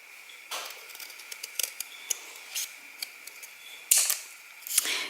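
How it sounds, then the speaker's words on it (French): Scissors cutting through thin chipboard while making a 30x30 frame, a series of close, crisp snips and crunches at irregular intervals, louder bursts near the end, with no voices. "avec des ciseaux, on peut bien couper cette cartonnette"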